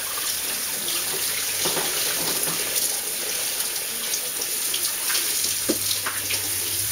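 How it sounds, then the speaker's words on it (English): Kitchen tap water runs steadily into a sink while a colander is rinsed, a constant close hiss with occasional splashes and clinks as the strainer is moved under the stream. "let me just wash this colander here real quick and get it clean"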